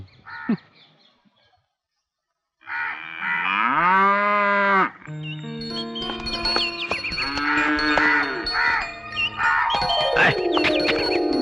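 A cow moos loudly several times in long, drawn-out calls, close by, with a crow cawing in between and after.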